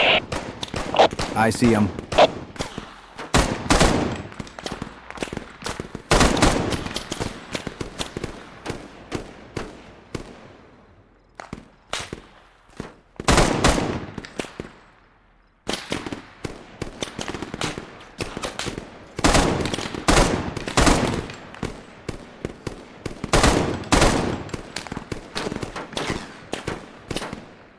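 Machine gun and rifle fire in a military video game, loud, close bursts and rapid volleys repeating through the whole stretch with short pauses between, and a brief spoken line amid the shooting.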